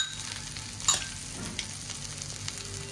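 Peanuts going into green chillies frying in a pan for Marathi mirchi thecha, giving a soft steady sizzle with a brief louder clatter as they drop in and some light stirring, no voices.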